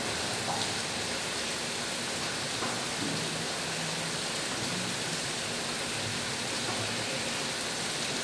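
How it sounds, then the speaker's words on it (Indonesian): Rain pouring outside a school classroom, a constant broadband hiss of heavy rainfall that stays even and fills the whole stretch without talk. "sambil menunggu hujan ya"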